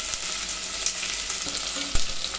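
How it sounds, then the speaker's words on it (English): Onions sizzle in hot oil with whole green chilies for homemade mutton biryani, a steady, close frying hiss with a brief clatter near the end. "Now I'm going to add onions."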